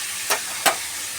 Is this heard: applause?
no